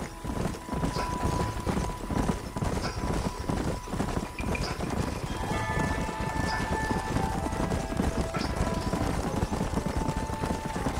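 Horses gallop in Red Dead Redemption on PS4, a steady, dense drumming of hooves that runs the whole time, close and fairly loud, with a faint mechanical whine coming and going.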